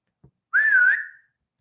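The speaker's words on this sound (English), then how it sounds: "Sorry to whistle in your ear. I'm trying to get my wife's attention." A person gives a single loud, close whistle to get someone's attention, a sustained rising and wavering tone lasting under a second, preceded by a faint click.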